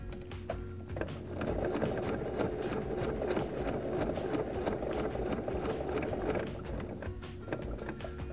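A domestic sewing machine stitching through a quilt, its motor running in a steady rapid chatter from about one to six and a half seconds, moderately close, with brief quieter handling before and after.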